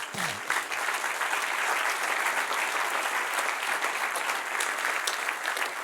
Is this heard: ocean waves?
no